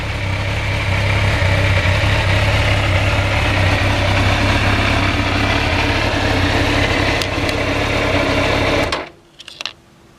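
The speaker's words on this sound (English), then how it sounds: "Got such an urgency to them when you rev these up. They spin up so quickly." A 2000 Suzuki GSX-R 750Y motorcycle engine running loud and close, holding a steady high rev for about nine seconds before cutting off abruptly, followed by a couple of brief mechanical ticks.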